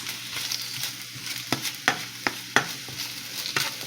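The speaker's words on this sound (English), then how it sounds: "And then we're gonna add it to our pan. Our pan of Alfredo, that is." A spoon stirs a pan of homemade Alfredo sauce, with shrimp and spinach fettuccine in one pot, scraping in a few sharp clicks against the pan over a soft, steady sizzle. The sound is close, with no talking.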